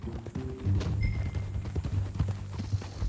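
A horse's hooves clip-clop at a steady walking rhythm in Red Dead Redemption 2, close and clear over a low ambient rumble, with faint tack rattles between the steps.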